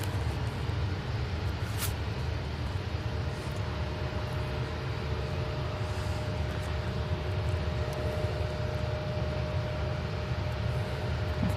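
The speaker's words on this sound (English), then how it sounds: "That's another Ryanair on finals." A Ryanair airliner on final approach to Manchester Airport gives a faint, steady low rumble from a distance, holding evenly with no other clear sounds.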